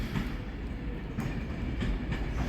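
A Class 390 Pendolino train runs at Carlisle station on the West Coast Main Line. Loud, steady rolling rumble with clicks from wheels over the rail joints, close by.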